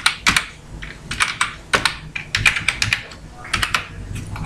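Someone types a password on a computer keyboard while logging into HDFC net banking, producing close, loud clusters of quick key clicks in irregular bursts.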